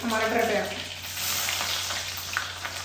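Steady oil sizzle and crackle of mustard seeds, fenugreek and chopped onion frying in a pan for a tempering, close and continuous, with a low hum underneath.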